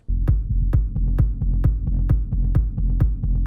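A gritty, distorted techno bass synth made in Cubase pulses in a steady repeating pattern, with sharp percussive clicks marking each beat.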